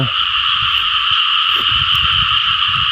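A dense chorus of frogs fills a wet field, loud and continuous, with a steady high trilling band over scattered low croaks close by.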